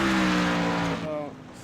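Racing truck engine from a video game oval race, a steady droning tone that drops in pitch near the end as it eases off, with a commentator's voice over it.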